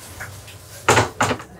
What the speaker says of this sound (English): There's a sliding door here, obviously, to shut off this whole crew area.